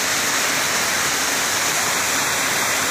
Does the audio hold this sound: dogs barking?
no